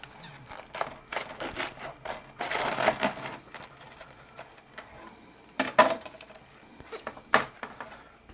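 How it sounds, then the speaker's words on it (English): A knife cuts straight down through a cabbage at the core to quarter it, giving several sharp crunching chops and bursts at irregular intervals, close and fairly quiet with no talking. "Start right there at the core, and I just cut straight down."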